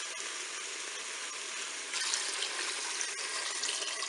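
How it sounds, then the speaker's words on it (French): Water is poured into a Cookeo multicooker pot over penne pasta, a steady hissing splash that grows slightly stronger partway through, close by and without speech. "Maintenant, je vais recouvrir d'eau."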